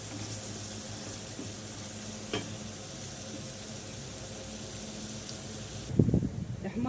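Chopped onion fries in a little oil with a steady, soft sizzle, and a short clatter of utensils comes near the end.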